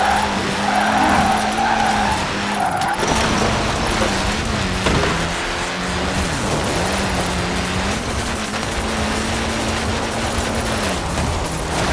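Car drifting through a power slide in Forza Horizon 4, tires skidding and squealing steadily over a droning engine note that rises and dips with throttle, loud and continuous for the whole stretch.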